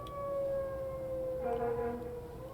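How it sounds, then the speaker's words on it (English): A fire engine siren from gameplay on the Minemen Club Minecraft server wails in steady, drawn-out tones, fairly faint and continuous, with no talking. "There's the fire engine again, bro."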